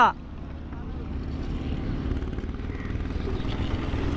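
On Kaptai lake a boat arrives with a low, steady engine drone that rumbles close and fairly loud, a faint wind-like hiss riding above it after a brief clatter at the start.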